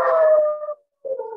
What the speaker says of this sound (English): Sorry, that's my dog. I don't know what he's barking at.